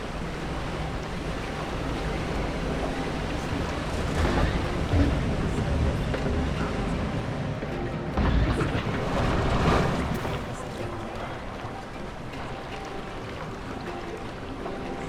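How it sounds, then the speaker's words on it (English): Waterfalls pour from a building in the theme-park game Planet Coaster, a steady broadband rush of falling water that swells briefly in the middle and never stops. "I just love the waterfalls that are coming out of this building."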